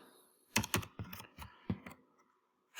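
Quiet, close keystrokes on a computer keyboard come in a short irregular burst of about half a dozen clicks, then pause before one more key press at the end, with no talking.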